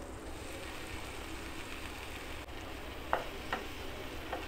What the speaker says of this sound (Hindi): फिर से हम पैन में बटर डालेंगे, आँच हम धीमी रखेंगे और उसके बाद हम कटे हुए टमाटर डालेंगे इसमें।